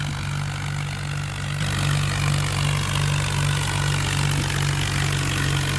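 A tractor engine running at full throttle gives a loud, steady, close-up roar with a continuous low throb, growing slightly heavier partway through and holding unbroken to the end.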